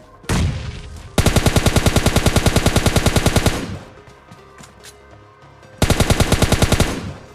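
Rapid automatic gunfire in a battle royale shooter, loud close bursts of evenly spaced shots, one long burst and then a shorter one after a quiet gap.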